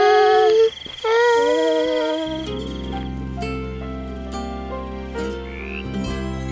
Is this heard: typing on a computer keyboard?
no